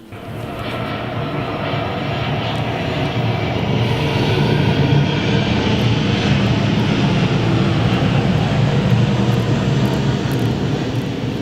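An airplane roars overhead near an airport, a loud steady broadband rumble that holds for the whole stretch with no voices.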